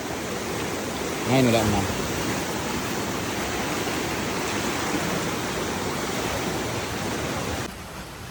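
Broadband rushing of floodwater pours steadily beside a fish pond, a dense continuous roar at close range that holds throughout, with a short burst of a voice speaking near the start.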